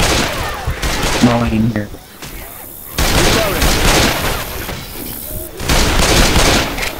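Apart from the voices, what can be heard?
gunfire in the video game Left 4 Dead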